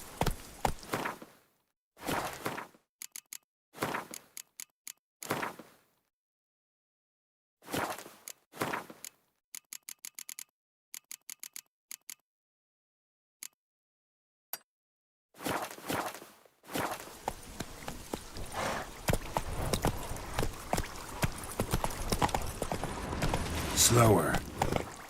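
Horse hooves clip-clop in The Witcher 3, coming in short separated bursts of steps with silent gaps, then giving way to a louder, denser stretch of game ambience near the end.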